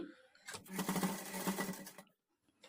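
A sewing machine runs a rough tacking stitch along a blouse sleeve in one steady burst of about a second and a half, close and clear, then stops abruptly.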